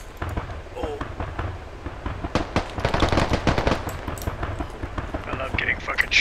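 Heavy automatic gunfire in the military shooter Squad during a large assault, with dense rapid bursts rattling throughout and building toward the middle, while voices talk over the shooting.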